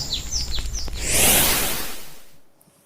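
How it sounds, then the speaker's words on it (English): A few short, high descending bird chirps ring out on Guam's east coast at Ipan, Talafofo, followed by a broad rising whoosh of wind or surf that fades away. "Sometimes I hear the same birds singing from past weeks"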